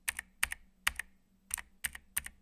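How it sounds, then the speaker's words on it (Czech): Typing on a computer keyboard, with clusters of close, crisp key clicks in an uneven rhythm, quiet and alone with no voices. "Ta jistá klávesnice je super, má hrozně příjemný zvuk"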